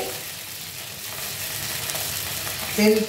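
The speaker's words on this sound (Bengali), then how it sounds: "তেল আর লঙ্কা ফোড়ন, কাঁচা লঙ্কা ফোড়ন দিয়েছি।" Fresh green chilies sizzle in hot oil as a tempering for a Bengali katla fish curry with nigella seeds, a steady, close, crackling fry that swells briefly near the end.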